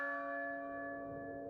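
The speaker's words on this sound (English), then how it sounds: "a bell can be heard," A church bell tolls in the distance in the Resident Evil 4 Remake, one sustained ringing strike with steady overtones slowly fading, heard alone.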